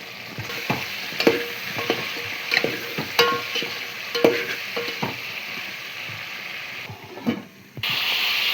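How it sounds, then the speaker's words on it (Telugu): Tomatoes added to a cooking pan of turmeric-seasoned food and stirred, a close sizzle with repeated utensil scrapes and clinks, ending in a louder burst of frying. "నెక్స్ట్ టమాటాలు వేస్తున్నాము"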